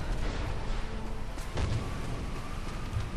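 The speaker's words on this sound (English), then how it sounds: "That was a big explosion." A booming explosion from the Tomb Raider video game, heavy low rumble with a sharp crash midway and continued rolling blasts, loud throughout.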